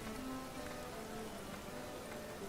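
Rain falls steadily in The Witcher 3 game, a dense, even patter of drops on surfaces with no talking over it.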